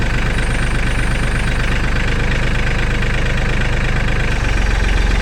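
A Mahindra Max 26 XL tractor engine runs steadily at close range, loud and continuous. Near the end its tone deepens as the loader's hydraulic pump is dead-ended under load.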